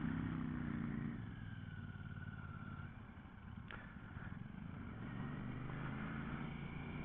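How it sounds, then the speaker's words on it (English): A Royal Enfield Classic 650 motorcycle engine hums steadily with a low, throaty exhaust note, fairly close and continuous, with a faint rattle partway through. "I am really liking the exhaust note on that"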